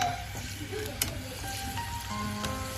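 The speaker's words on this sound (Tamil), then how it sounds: "இப்போ கூடவே நம்ம நெய் ஊற்றி முந்திரியை கொஞ்சம் செவக்க வறுக்கிறோம்." Cashews and raisins fry in ghee with a steady soft sizzle and crackle, moderately close, with faint stirring clinks and no voices.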